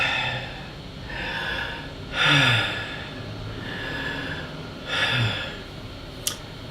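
Two slow, deep breaths, each a broad airy inhale-exhale swell a few seconds apart, fairly close and alone over a soft steady background, followed by a brief faint tick.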